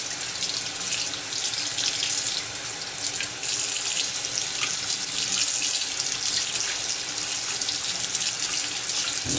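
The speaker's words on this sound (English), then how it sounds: "I'm gonna rinse off." Tap water runs steadily and close by at a sink as the face is rinsed during a straight-razor shave, a continuous hiss with no talking over it.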